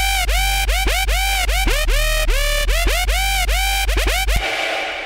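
A loud, aggressive dubstep drop of synth bass with rapid rhythmic wobbles and pitch sweeps, chopped into stuttering repeated hits before cutting out near the end.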